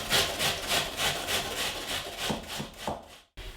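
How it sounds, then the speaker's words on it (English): An onion is rubbed back and forth on a grater in a brisk, even rhythm of rasping strokes, close up, trailing off into a short pause at the end. "I'm just gonna grate a little bit of onion in here, and I'm gonna do that on this side here."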